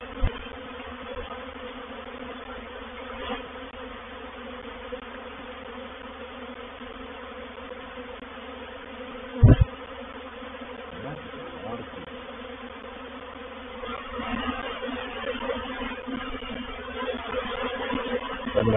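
Steady buzzing from a clustered honey bee swarm being captured, a dense, constant drone with one sharp knock midway and a slightly busier, louder hum toward the end; no voices.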